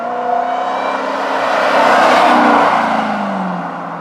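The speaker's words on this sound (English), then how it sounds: "Cut up next, the big Land Rover Defender 130." Land Rover Defender 130 driving past, its engine and tire roar swelling from a distance to a loud peak mid-pass and then easing off with a falling pitch.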